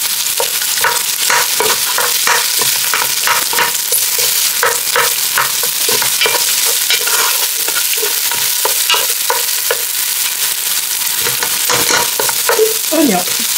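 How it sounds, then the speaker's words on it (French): Onions and garlic frying in oil in a pan while cooking calalou, a steady loud sizzle with repeated stirring scrapes throughout, close up and without talk. "je vais mettre mes oignons et mon ail"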